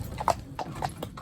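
A horse named Tonto, fitted with a soft rubber bit, steps a few times; sharp, close hoof clip-clops sound in quick succession over faint outdoor background.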